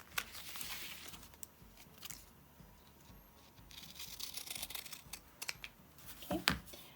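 Scissors snip through printed fabric labels along cut lines, a series of close, crisp cuts and rustling fabric with a few sharper snips near the end, quiet and without talk.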